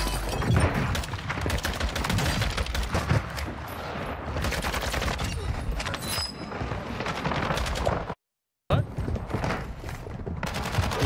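Dense, continuous gunfire from the Call of Duty Warzone video game, Resurgence mode on the Al Bagra Fortress map, with rapid bursts and heavy loud shots filling the whole stretch apart from a brief silent gap near the end.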